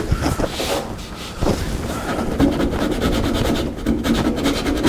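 Steady abrasive rubbing as body filler on a car panel is roughed up and sanded, a loud, close rasp with brief pauses between strokes.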